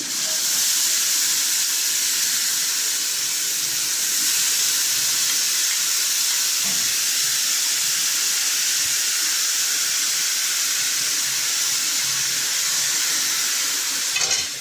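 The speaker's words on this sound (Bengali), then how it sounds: "গন্ধ বেরিয়ে গেছে, ভাজাও হয়ে গেছে। এবারে আমি পেঁপেটা দিয়ে দিচ্ছি।" Papaya pieces dropped into hot oil spiced with garam masala, giving a steady, loud sizzle and hiss that holds evenly throughout with faint stirring, no voices.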